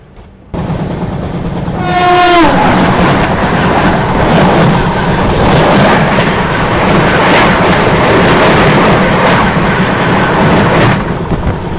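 An Indian Railways Chennai Garib Rath Express runs at speed through Agra Cantt while overtaking another train, its horn blaring briefly near the start before a loud, steady rumble and clatter of wheels and carriages that continues unbroken to the end.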